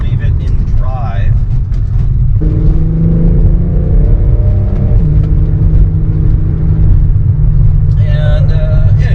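Car with a VR6 engine and a freshly reassembled transmission pulling forward in drive, a loud, close low engine drone whose pitch steps up and holds steady, with a voice talking over it at the start and end.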